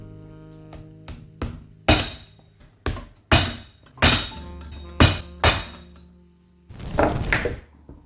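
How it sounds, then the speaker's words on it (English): A hammer drives nails to tack a leather heel rand onto a worn shoe during restoration. About a dozen sharp, close knocks come at an uneven pace, some in quick pairs, with no voices. "Using some nails, we're just going to tack this down, secure it back in place."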